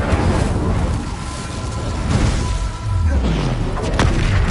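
A fire spell blast cast in the video game Hogwarts Legacy, a deep booming thud with a whooshing burst over a constant loud background of game sound, with a low rumbling tail.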